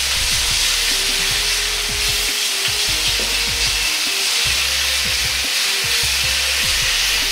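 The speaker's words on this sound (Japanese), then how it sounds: "赤いところを焼いていきます。 両面をまんべんなく焼いていきます。" Meat sears and sizzles steadily in a hot pan for a Chinese-restaurant-style stir-fry of pork and vegetables, with the spread-out slices browning on both sides. A dense, continuous frying hiss runs throughout, with scattered scraping knocks and no talking.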